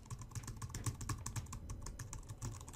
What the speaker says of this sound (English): You hear somebody typing